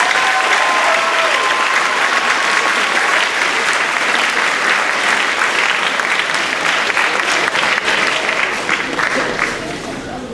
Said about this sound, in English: can we please give the freshman class a huge round of applause and welcome them to high school?